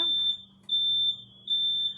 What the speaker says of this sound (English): alright, so y'all don't mind the fire alarm.